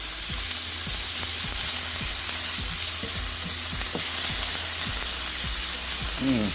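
Pork meat with bits of fat frying in a pan for Thai fried rice, giving a loud, steady sizzle with a regular run of scraping stirring knocks, close up and with no talk.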